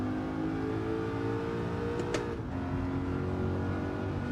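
A BMW Z8 engine in a racing video game drones steadily at high revs, with a short sharp blip and a shift in pitch midway as the car slows and gears down.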